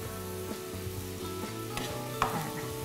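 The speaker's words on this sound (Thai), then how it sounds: "อันนี้เราจะทำการเหมือนกับผัดหมูให้สุกนะคะ" Minced pork seasoned with low-sodium fish sauce is stir-fried until cooked, a soft continuous sizzle with occasional spatula scrapes and one sharper clack, fairly quiet and close, with no talking.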